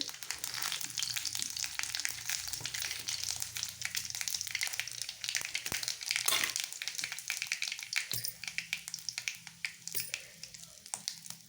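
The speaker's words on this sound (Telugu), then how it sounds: "ఆయిల్ మరిగిందండి ఇప్పుడు కొంచెం జీలకర్ర వేసుకుందాం ఆవాలండి తర్వాత రెండు ఎండు మిరపకాయలు వేసుకుందాం" Cumin, mustard seeds and dry red chillies crackle and spit in hot oil as the tempering for a pumpkin curry, a dense, steady sizzle with sharp pops scattered throughout, close and fairly loud.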